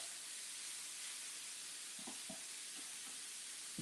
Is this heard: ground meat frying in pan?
yes